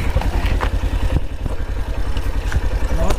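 Bajaj CT 100 motorcycle engine ticking over in neutral on a forest ride near Hamirpur, a steady close, loud rhythmic putter with some clatter throughout.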